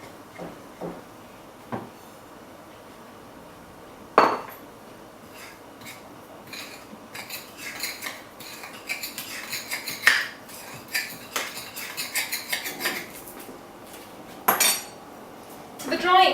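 Caster sugar stirred into a rubbed-in flour and butter mixture in a bowl, with a spoon clinking and scraping irregularly against the bowl, close, a few louder knocks, no talking.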